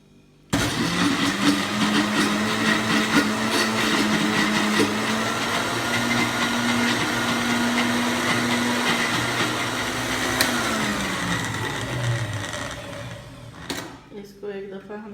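A blender whirs loudly, grinding shawarma white sauce made without oil, starting abruptly and running as a steady motor drone with a strained whine that shifts pitch near the end before cutting out.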